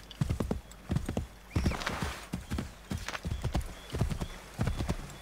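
Horse hooves clip-clopping in the Assassin's Creed 3 video game, a steady, loud, close trotting rhythm with a whinny partway through and no talk over it.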